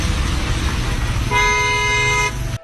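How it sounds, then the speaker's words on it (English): A car horn blares in traffic, one long loud honk beginning partway through over rumbling engine and road noise, then cutting off abruptly. "The car he cuts in front of even beeps loudly, just hurrying him to get out of their way."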